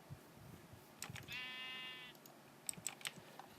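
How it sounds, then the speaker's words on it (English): Sheep bleat once in Minecraft, a short wavering electronic bleat standing out over soft ambient game noise and faint clicks. "Right over here we have our sheep farm,"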